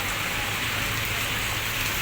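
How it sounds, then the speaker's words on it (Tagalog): Steady rain falling on a city street on Upper Session Road near a post office, a dense continuous hiss of drops on pavement, even and close, with no talking. "umuulan talaga."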